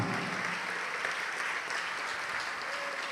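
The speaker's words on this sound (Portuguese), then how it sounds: "vamos aplaudir mais" A church congregation applauds in a dense, even roar of clapping that holds steady throughout, heard from within the room, with a faint tone sustaining near the end.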